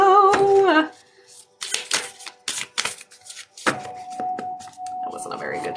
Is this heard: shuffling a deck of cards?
yes